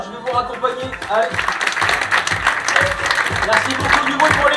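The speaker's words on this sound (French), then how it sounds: "Vous pouvez encore les applaudir," Audience at a live event applauding, a dense wash of clapping and crowd noise that swells after the opening seconds, with voices and shouts mixed in.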